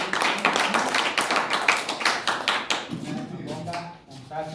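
Students and guests clap together at a thanksgiving mass in a special school, a brisk rhythmic burst of claps that thins out near the end as a voice comes in.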